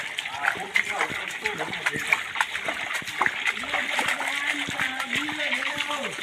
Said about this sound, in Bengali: দেখেন গলিতে গলিতে প্রচুর প্রচুর পানি ঢুকছে।